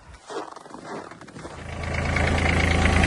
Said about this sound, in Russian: Запустим трактор.